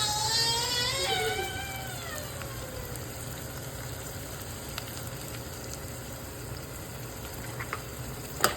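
Broad beans (chikkudukaya) frying in a pan give a steady, close sizzle with a soft hiss that settles after an early burst, broken near the end by a few light clicks.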